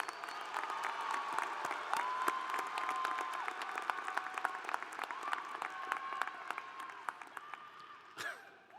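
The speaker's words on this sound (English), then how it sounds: "Let's give them both a round of applause." Commencement ceremony audience applauding graduates in a large hall, steady reverberant clapping with some cheering, fairly distant, tapering off near the end.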